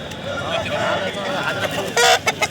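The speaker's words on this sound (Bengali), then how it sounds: "এই জায়গায় তিনটাই হাজরা প্রজাতির মুরগি" Hajra breed chickens at Balarampur poultry market in Purulia: close, repeated clucking calls with a sharp squawk near the end, over a busy market background with people talking.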